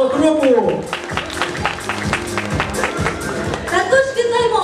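Audience applause at a student of the year awards ceremony, a steady patter of many hands clapping at moderate volume beneath a presenter speaking over it.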